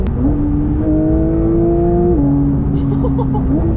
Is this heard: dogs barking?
no